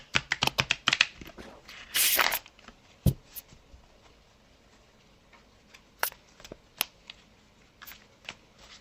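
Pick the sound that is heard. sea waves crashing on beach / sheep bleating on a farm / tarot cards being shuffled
tarot cards being shuffled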